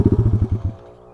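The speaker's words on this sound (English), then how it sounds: "That's freaking loud, whatever that is. Someone's doing a burnout or something." A rough, pulsing engine rattle from a vehicle doing a burnout throbs in quick bursts for under a second, then drops away to a faint low hum.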